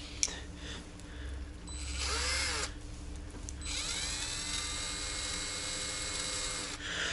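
A power screwdriver drives self-tapping screws, its motor whining steadily and rising and falling in pitch as each screw turns in, with no talking.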